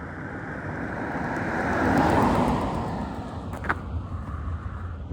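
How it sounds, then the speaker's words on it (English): A car on a Norfolk country road swells in from a distance, passes loudest around the middle, then fades away, all under steady gusting wind noise on the microphone. "it sounds like there might be a car coming"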